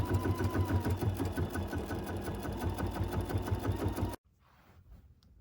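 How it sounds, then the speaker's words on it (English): A computerized embroidery machine stitches out an edge-to-edge quilt design, a loud, steady, rapid mechanical chatter that runs for about four seconds and then stops abruptly, leaving faint room noise. "How to stitch out a partial design."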